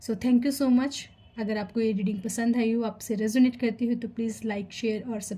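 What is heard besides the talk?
No everyday noise stands out behind the speech.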